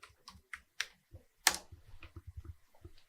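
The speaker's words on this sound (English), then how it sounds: "let me clear my screen so that you can see what I'm typing" Keystrokes on a computer keyboard as a git command is typed, a dozen or so close, crisp clicks in an uneven rhythm with one louder press near the middle.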